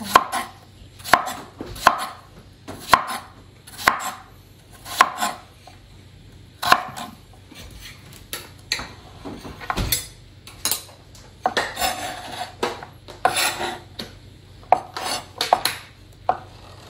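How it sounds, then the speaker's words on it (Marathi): A knife chops bottle gourd finely on a board, giving close, sharp knocks in irregular bursts, some rapid runs and some single strokes, with a faint hum behind. "एकदम बारीक चिरून घ्या."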